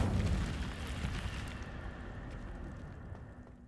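The Incendio fire spell is cast in Hogwarts Legacy: a sudden fiery burst that flares loudly at the start, then fades into a crackling, rumbling decay.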